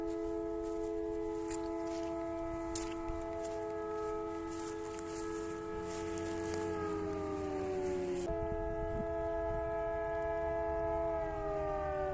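A wailing air-raid siren holds a steady, harmonic-rich tone in the distance, slowly dipping in pitch, with faint rain-like background hiss.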